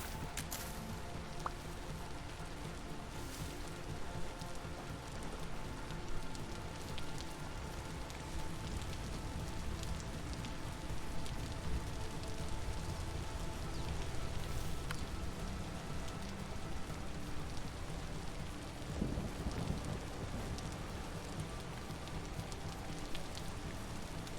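Steady rain in the video game Vintage Story patters continuously on a surface, a soft even hiss with scattered drops, no voices, lasting the whole stretch.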